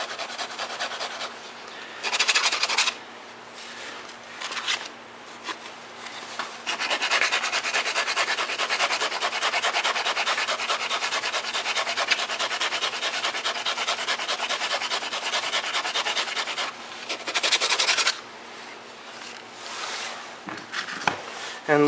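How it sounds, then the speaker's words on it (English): Sandpaper rubs at an angle along the edge of a PVC flute, a close, raspy scratching in repeated strokes with short pauses, one long sustained stretch of sanding in the middle. "I'm going to take my sandpaper at a little bit of an angle and just make this edge a little"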